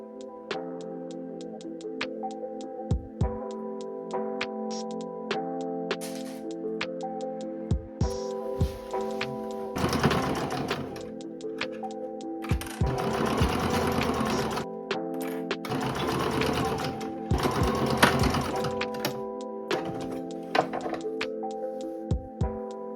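A sewing machine stitching a straight seam across pants fabric, its needle ticking in a steady rapid rhythm that swells into louder bursts of fast running, close and alone with no voices.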